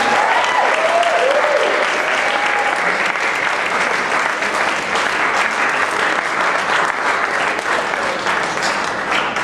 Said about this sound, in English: Can we give a round of applause to Jessica?